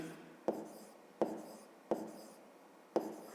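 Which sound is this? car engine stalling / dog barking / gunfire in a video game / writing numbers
writing numbers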